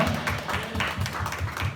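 A church congregation at a Sunday youth worship service claps together in praise, a dense burst of many hands in loose rhythmic pulses filling a hall.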